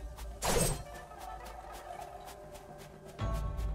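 An old stream donation alert rings out as a brief bright chime with a quick burst at the start and a short thump near the end, with faint background tones between.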